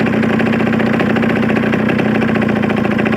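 A warm engine idles steadily close by during adjustment of its settings, a continuous mid-pitched rumble with an even, rapid pulse and no revving.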